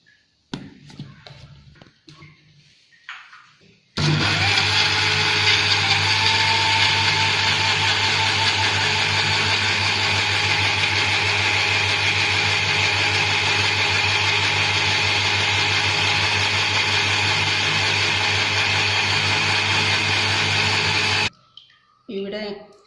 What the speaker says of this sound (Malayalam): ഇത് മിക്സിയിൽ വെച്ച് അടിക്കുക.